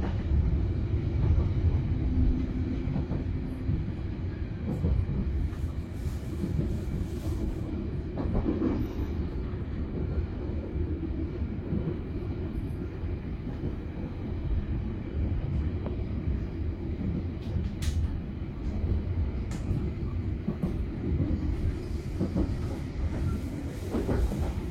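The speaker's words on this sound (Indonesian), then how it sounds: "kereta api Tegal Bahari sedang berbelok tuh" A Tegal Bahari passenger train rounds a curve, heard from inside the rear carriage: a continuous low rumble and rattle of wheels and coach body that holds steady throughout, with no one talking.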